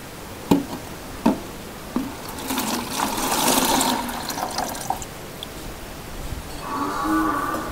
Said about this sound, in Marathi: तर पहिला आपण मित्रांनो हे ताक ओतून घेऊया।